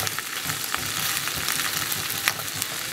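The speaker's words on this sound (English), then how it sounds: "all the shrimps are in. Let's let this go. Let's let this cook." Shrimp frying in a pan, producing a steady, dense sizzle with small scattered pops, close and moderately loud, without talk.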